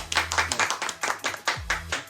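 Several people clap their hands together in a quick, uneven burst of applause, close by and fairly loud.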